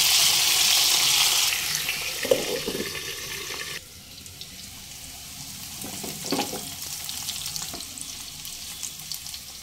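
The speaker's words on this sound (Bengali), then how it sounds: "এভাবে ঢাকা দিয়ে দিয়ে ভেজে নিতে হবে।" Salted, turmeric-coated teasel gourd and potato pieces fry in hot oil over medium flame, a loud hissing sizzle that drops sharply when a lid goes on, leaving quieter frying with occasional clatters.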